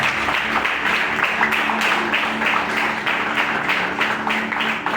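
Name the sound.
church congregation applauding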